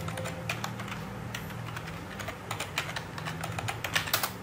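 Rapid, light clicking of keys being typed on a computer keyboard, close and fairly soft, in uneven bursts that quicken toward the end.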